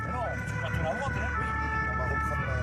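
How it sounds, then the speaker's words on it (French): Wailing sirens of a Toulouse fire brigade convoy rushing toward Purpan hospital, several overlapping two-tone and swooping wails loud and continuous over the roar of moving vehicles. "Dans un concert de sirènes, le convoi s'élance vers Purpan"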